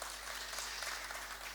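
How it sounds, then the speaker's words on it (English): Continuous audience applause at a soil health and fertilizer conference, a dense, even wash of many hands clapping throughout, heard from some distance and fairly quiet. "Let's give a round of applause to Mr. Jeremiah."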